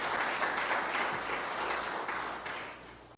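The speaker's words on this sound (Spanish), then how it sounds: "Denle un aplauso fuerte al único Dios verdadero." A church congregation at a Sunday service applauds in a steady, dense wash of clapping that continues for several seconds, close and full, tapering slightly at the end.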